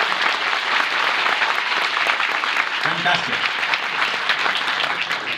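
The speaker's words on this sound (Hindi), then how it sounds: "तालियों में जोर." Sustained applause fills a literary festival hall in Noida on its second day, steady clapping throughout with a brief spoken exclamation over it.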